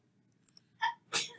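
A single sharp sneeze, preceded by a short intake of breath, comes from someone close by in a chemistry lecture room. It is loud and brief against otherwise quiet surroundings.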